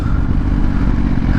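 Motorcycle engine running hard with a loud, steady throaty roar, close and continuous with no talk, fitting a torquey bike that replaced an FZ09.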